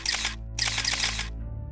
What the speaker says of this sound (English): A shutter clicks.